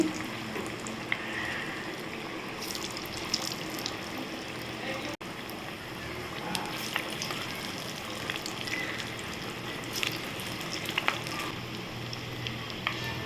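Steady, dense sizzling of egg and lentil vadas deep-frying in hot oil, continuous throughout with occasional small pops and crackles; no voices.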